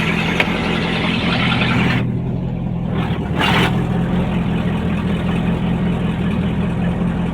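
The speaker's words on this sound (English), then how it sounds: "Dead smooth idle, even when cold, with no choke." A 1971 Ford Thunderbird engine idles smoothly and steadily on a hot day, a constant low rumble running close and unbroken through the whole stretch, with no voices over it.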